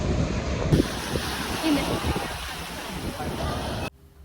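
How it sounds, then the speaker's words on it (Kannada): Strong wind blasts across a beach in Phuket in a steady, loud roar, likely with surf mixed in, then drops away abruptly near the end. "but the wind is so strong"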